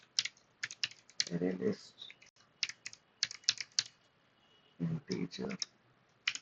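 Code is typed on a computer keyboard in quick bursts of crisp key clicks, with pauses between them, while a person talks quietly over parts of the typing.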